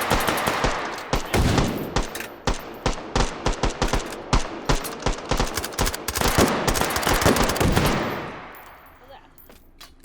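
A mag dump in the VR shooter H3VR: rapid, loud bursts of automatic gunfire hammer continuously for about eight seconds, then cut off into a fading echo.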